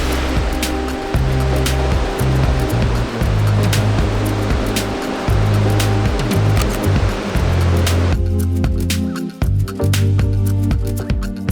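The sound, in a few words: sea waves of the incoming tide on a Cornwall beach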